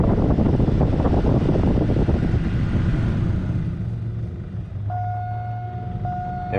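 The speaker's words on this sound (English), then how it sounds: "the blower kicked on and is running." Blower motor of a 2005 GMC Yukon running steadily, a strong airy rush at first that eases to a quieter hum, with a faint steady tone toward the end.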